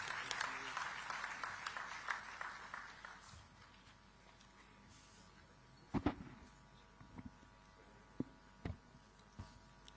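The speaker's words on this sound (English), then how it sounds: "Let us all express our appreciation with a thunderous round of applause" Audience applause at a digital technology summit in Visakhapatnam: a dense burst of clapping for the first few seconds that quickly fades, followed by quieter room tone with scattered knocks and a voice.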